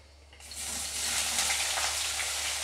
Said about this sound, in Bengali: ফোড়ন দিয়ে এখানে আমি এই কাটা পেঁয়াজটাকে দিয়ে দেব